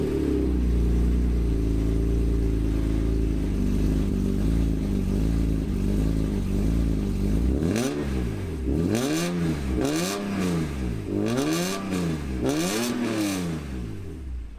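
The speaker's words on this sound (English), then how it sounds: "right off the bat, we got this Racing Dynamics exhaust." A 200,000-mile BMW E46 M3 with a Racing Dynamics exhaust, catless headers, and a mid pipe running two cats with no resonators idles with a deep, steady burble, then gets several sharp throttle blips that rise and fall in quick succession.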